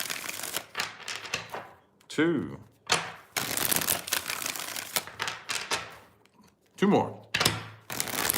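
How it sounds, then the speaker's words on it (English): A tarot deck shuffled in several quick, papery bursts separated by brief gaps, close up, with a voice speaking and counting between them. "Let's get 4 shuffles here"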